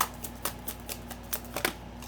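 A deck of tarot cards being shuffled by hand, a quick series of soft riffling snaps and brushes over a steady low hum, with no talk.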